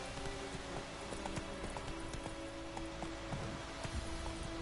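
Horse hooves clip-clop in a steady trotting rhythm while riding in The Witcher 3, set against a constant dense game ambience that could include rain, with a faint voice briefly audible.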